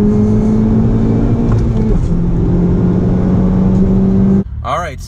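A 2018 Honda Civic Type R accelerates hard, its engine droning loud and steady up through the revs before cutting off abruptly near the end, when a brief voice takes over.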